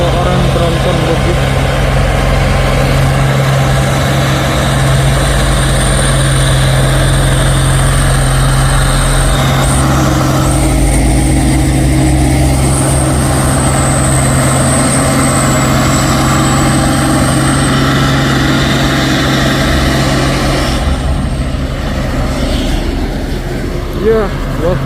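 A 220 PS tronton truck engine runs steadily and loudly close by, holding a constant low drone throughout, with faint voices under it.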